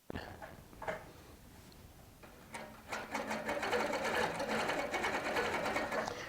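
A Baby Lock sewing machine stitches down hand-made cording onto a quilt, starting with faint taps and then running into a loud, steady rapid whirring chatter close by.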